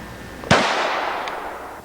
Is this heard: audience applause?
no